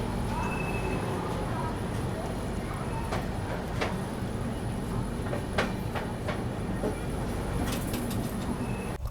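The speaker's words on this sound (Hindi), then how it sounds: "तो यहाँ पर अपनी ट्रेन एक और ओवरटेक करके निकल रही है" The Kushinagar Express rolls past another train, the Darbhanga Mysore Bagmati Express, in a steady close rumble with scattered clicks and clacks, and a voice speaks over the train noise.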